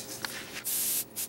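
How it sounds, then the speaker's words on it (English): Pam cooking spray hisses into a 9-inch pie pan in a few short close bursts, with one longer spray followed by a brief final one in a quiet kitchen. "And I'm gonna spray it with Pam,"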